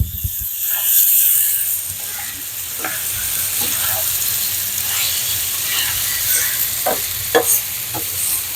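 Mixed vegetables stirred and fried in a pan, with a loud steady sizzle and hiss and repeated scraping turns of a utensil, close up and without speech.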